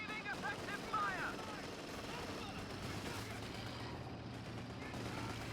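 Gunfire in the Company of Heroes 2 battle game, with dense rattling bursts and sporadic shots blending into a continuous combat din, as a voice talks over the top.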